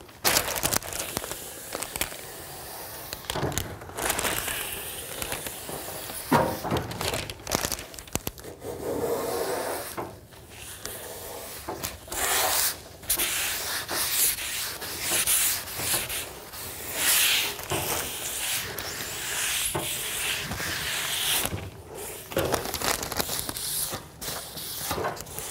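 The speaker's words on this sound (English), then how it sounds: "sanding in a linear form, in a linear pattern, I'm not degrading my tape" A Z28 Camaro body panel being sanded by hand in a linear pattern next to masking tape, a steady close rasping scrub with brief pauses between strokes that continues for the whole stretch.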